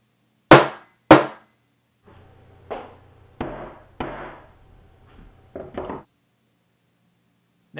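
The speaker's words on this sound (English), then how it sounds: "use a hammer to smash the tissue" A hammer smashes fresh mushroom tissue folded inside a Whatman FTA card, giving two sharp, loud cracks followed by several duller, softer thumps, close up with a faint hum underneath and no speech.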